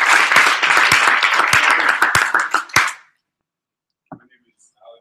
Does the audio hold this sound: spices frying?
no